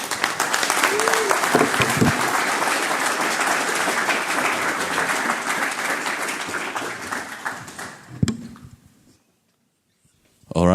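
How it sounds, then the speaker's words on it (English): Keynote audience applause at a conference, dense steady clapping that fills the room for about eight seconds before cutting off sharply, followed by a short silence. "one more round of applause for Mathieu."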